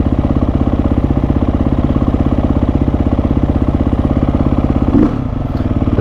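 A 2008 SMR 510 motorcycle engine idles close by in a fast, steady, even thump that runs throughout, with a brief knock near the end.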